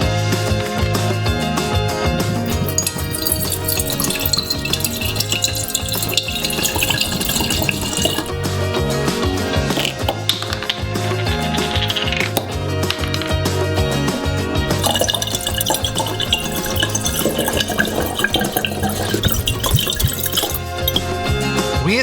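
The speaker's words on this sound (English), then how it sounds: "The last flask remains, and we will pour 2 bottles of alcohol into it." Two bottles of alcohol being poured into a glass flask, giving a continuous close liquid gurgle and splash that changes pitch as the flask fills, with no talking.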